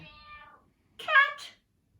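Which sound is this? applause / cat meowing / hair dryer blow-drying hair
cat meowing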